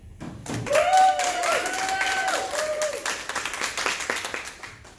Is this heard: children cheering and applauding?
yes